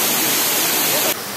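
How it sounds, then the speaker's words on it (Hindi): Steady roaring rush of Pradhanpat Waterfall in Deogarh, Odisha, loud and close, with a slight drop in intensity near the end. "तो आप शुणिले ना ओरिजिनाल साउंड टा के जोर साउंड हो पानी पड़ू"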